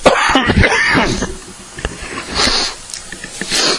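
Several harsh, raspy coughs in close succession near the start, followed by quieter throaty bursts and rough breathing.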